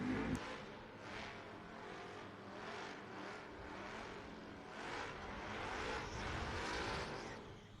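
Drag racing cars, a 1991 Mustang and a Ford Ranger, idle and rumble at the start line of a footbrake drag event. A steady, fairly distant engine drone and crowd-area ambience continues throughout without a sharp launch.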